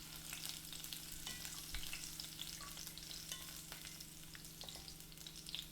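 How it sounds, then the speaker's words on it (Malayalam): Chopped garlic frying in hot vegetable oil, a steady faint sizzle with occasional soft clicks of a stirring spoon, heard alone. "അപ്പോൾ നമ്മൾ എണ്ണ ചൂടായി വന്നിട്ട് നമ്മൾ അരിഞ്ഞ് വെച്ചിരിക്കുന്ന വെളുത്തുള്ളി ചേർത്ത് കൊടുക്കാം."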